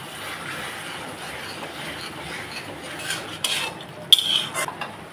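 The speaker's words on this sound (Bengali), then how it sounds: "এখন মশলাটাকে আমি ভালোভাবে কষিয়ে নেব" Spice paste sautéed and stirred in a pan for a Bengali fish curry, a soft continuous sizzle with scraping stirs and a few clinks of the spoon growing louder toward the end.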